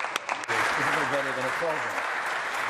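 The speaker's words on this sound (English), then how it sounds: "I hope everyone here can join me for a round of applause to thank them" Applause from a room of people in a legislative chamber during members' statements carries on steadily while a voice speaks over it near the start.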